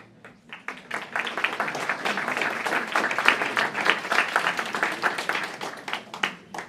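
An audience at a Local Hero Awards ceremony for District 10 honorees claps in a dense, sustained round of applause, close and fairly loud, swelling briefly after a quiet start and continuing for several seconds.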